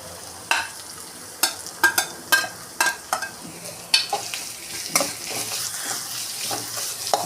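Onions half-browned in a pan with grated coconut added for a jackfruit curry sizzle steadily, with a dozen sharp spoon-scraping stirs scattered through the first half and a continuous frying hiss throughout.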